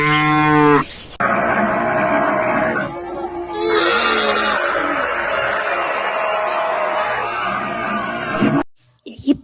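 Cattle bellow loudly in a series of long, close moos, with a crowd-like din and shouting mixed in, ending abruptly.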